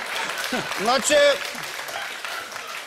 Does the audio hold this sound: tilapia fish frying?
no